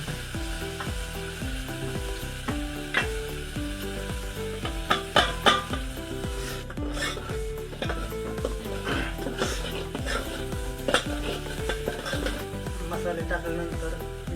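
Mutton curry masala frying in oil in a pot over a village wood-fired stove, a steady crackling sizzle with repeated stirring scrapes and occasional sharp clinks, while someone talks.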